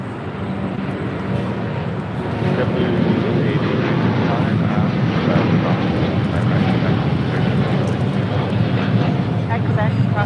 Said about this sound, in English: This is All Nippon Airways Flight 5 taking off to Tokyo Narita on a 787-9 Dreamliner.